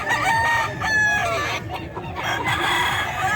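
Roosters and hens at a Bocaue poultry market, with loud overlapping clucking and crowing close by and more birds calling behind, continuous and busy.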